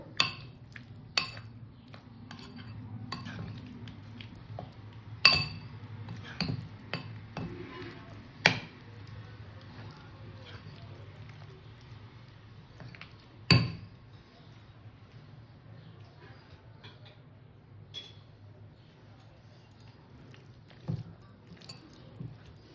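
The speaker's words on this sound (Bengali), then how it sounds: "চামচ দিয়ে খুব ভালো হচ্ছিল না যার জন্য হাত দিয়ে নিলাম সুন্দর করে মেখে নিলাম" A spoon clinks and taps against a bowl while chicken pakora batter with a cracked egg is mixed, giving irregular sharp knocks between soft wet squishing, close and without talk.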